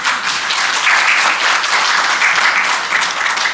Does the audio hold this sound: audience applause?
yes